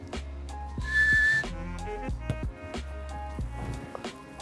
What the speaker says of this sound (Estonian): ootan vilet